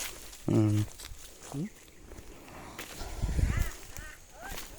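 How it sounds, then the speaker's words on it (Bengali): Several honking bird calls, goose-like, stand out in short bursts over an outdoor background with footsteps and faint rustling. "পাখি ডাকিতেছে"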